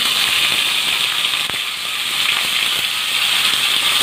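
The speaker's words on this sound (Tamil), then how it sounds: "கடுகு பொரியுது" Mustard seeds and curry leaves splutter in hot oil with a dense, steady crackle and fizz. A sharper pop stands out in the middle, and the frying is heard close up without voices.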